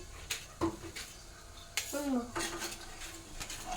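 A knife works through a tomato on a home kitchen board, giving a few sharp taps and chops, close and moderately loud, spread unevenly amid small utensil clatter.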